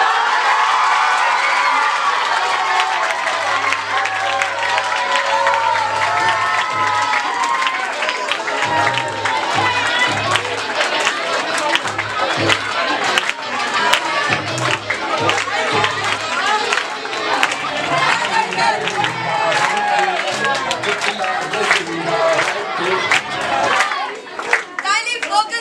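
Audience at a felicitation celebration at English Caffe claps and cheers, a steady wash of applause with shouts and children's voices continuing throughout, with a voice speaking over it.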